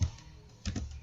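A computer keyboard gives a few quiet, close key taps during data entry into SPSS, soft and brief against a low hum.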